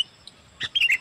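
A small bird gives a few quick, high chirps close by, a brief cluster of bright tweets near the end against a faint, quiet background.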